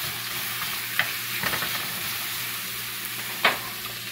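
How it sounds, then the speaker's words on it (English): Chopped red onion sizzles in a frying pan for a pork and pineapple rice bowl, with a spoon stirring and a few sharp knocks against the pan, one louder near the end. "Red onion. Give that a stir."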